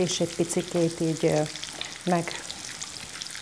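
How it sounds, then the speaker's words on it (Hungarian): Bacon and meat fry in a pan for stuffed cabbage, giving a steady sizzle beneath a nearby voice that speaks in short phrases. "akkor hadd süljön, hadd sercegjen minden"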